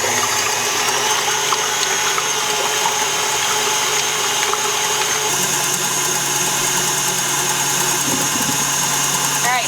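A KitchenAid stand mixer runs on speed 8 whipping egg whites in a homestead kitchen, a loud, constant motor whir with a rattling beat that stays steady throughout.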